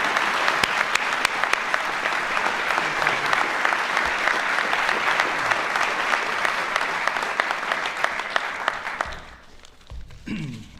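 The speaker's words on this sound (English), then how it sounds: "Let's give Jose a big round of applause, everyone." Loud, sustained applause from an audience at a political event, steady and dense for about nine seconds before fading away.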